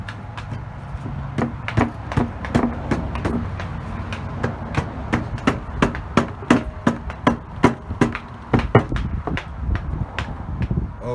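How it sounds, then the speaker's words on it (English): Repeated sharp blows of a rubber mallet on metal while working on a Predator 212 engine, about two or three per second, steady and close, with no talking. "I'm using a rubber mallet"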